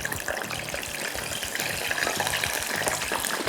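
Potatoes fry in hot oil with a dense, continuous sizzle and crackle, loud and close, with no talking.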